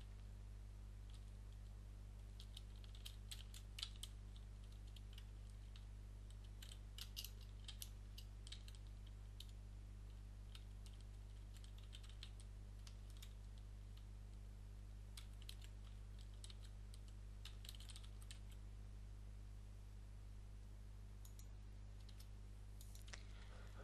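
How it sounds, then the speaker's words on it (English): Someone types on a computer keyboard, quiet clusters of keystroke clicks in irregular bursts over a constant low electrical hum, with no talking. "So I've just typed in landscape half page"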